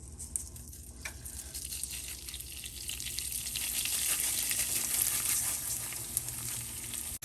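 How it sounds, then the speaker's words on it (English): Rice poured into hot oil for Mexican white rice, a quiet sizzle that swells into a steady frying hiss and holds, with no voices. "now we put in some oil. It's already heated. We're going to add in the rice."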